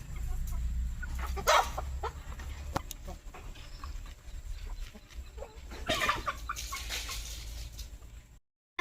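Chickens cluck and squawk in bursts over a steady low rumble, with louder flurries near the start and again toward the end.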